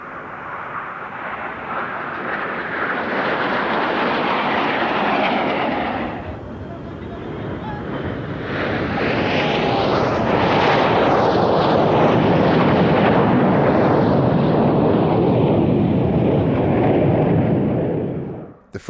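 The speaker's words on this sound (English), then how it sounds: "Flying the Air Macchi MB339 trainer and light attack aircraft" Aermacchi MB-339 trainer and light attack jets of the Frecce Tricolori display team roar past at an airshow, a loud continuous jet-engine rush that swells and dips, then builds again into a long, close, full-throated pass.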